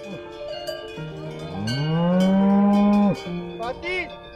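A cow gives a long, loud, rising moo close by during an alpine cattle descent festival, with cowbells clanking faintly around and more lowing nearby.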